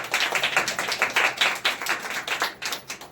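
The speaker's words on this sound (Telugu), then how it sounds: "చప్పట్లు కొడదామా?" A church congregation claps hands together in a steady, dense burst of applause-like clapping that carries on without pause, fairly loud and close, with no speech over it.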